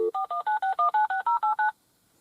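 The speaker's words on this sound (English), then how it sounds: "I have an old-fashioned phone over here that I'm going to call myself." Dual-tone dialing from an old-fashioned phone played through a cheap $30 Android Auto/Apple CarPlay car head unit: about ten short, evenly spaced beeps in quick succession, clear and close, followed by silence.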